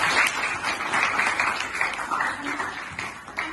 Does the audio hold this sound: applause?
yes